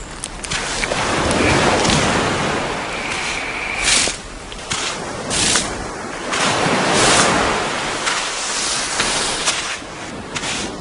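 Surf washes steadily onto a beach on Komodo island, a broad continuous roar with several louder wave crashes swelling and fading, with no voices present.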